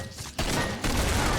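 A mag-fed Seal Squeal mortar cannon firing harpoon-tipped rounds in a video game, with loud, dense, sustained blasts in two surges separated by a brief dip.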